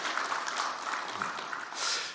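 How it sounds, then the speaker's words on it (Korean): A church congregation claps in welcome for a missionary, a brief, even patter of applause from a seated crowd at moderate distance. "한번 먼저 박수로 한번 환영해 주시고요"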